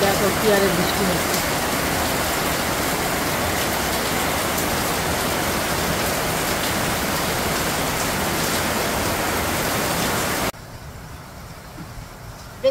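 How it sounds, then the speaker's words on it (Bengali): Steady rain pours outside an open window, a dense even hiss that runs unbroken for about ten seconds before dropping suddenly to a much quieter background. "দেখো কি আরে বৃষ্টি হচ্ছে।"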